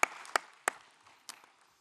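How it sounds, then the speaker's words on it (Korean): A few sparse, separate claps ring out in a quiet church room during a Wednesday service, four sharp hits spaced unevenly and fading out. "하나님께 영광의 박수 올려드립니다"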